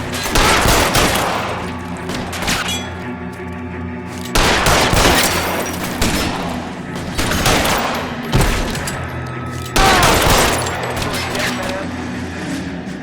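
Shootout gunfire in a 1940s Los Angeles detective game, with three loud volleys of rapid overlapping shots, each bursting out then tapering, mixed with voices.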